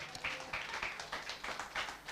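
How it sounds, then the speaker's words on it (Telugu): Congregation clapping along in a church service, a soft, faint run of rhythmic hand claps at a steady tempo with no voices over it. "చప్పట్లు కొడదాం."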